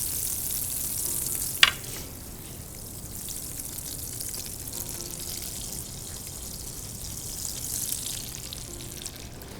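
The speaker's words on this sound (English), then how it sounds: "This is starting to sizzle a little bit." Pieces of herb polenta sizzle steadily in a hot pan, a soft continuous frying hiss with a sharp clink near the start, no talking.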